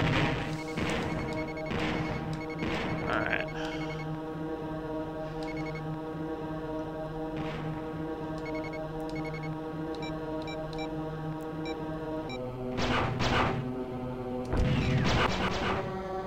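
Starfighter weapons fire and explosions in a Star Wars X-Wing space combat game, with repeated sharp blasts over a steady tonal engine drone and a cluster of heavier crashes near the end.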